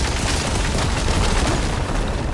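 An explosion in the action game Horizon Forbidden West, a loud sustained roaring blast with heavy low rumble and crackling debris throughout, no talk over it.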